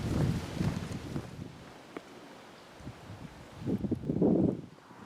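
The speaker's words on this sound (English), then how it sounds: "It's breezy down here, so there will be a gale blowing up there." Breezy coastal wind at North Berwick buffeting the microphone, a steady low rushing roar with a stronger gust near the end.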